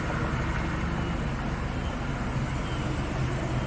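A Ford Mustang EcoBoost four-cylinder engine runs with a smooth, steady low hum under faint background noise, with no distinct revs.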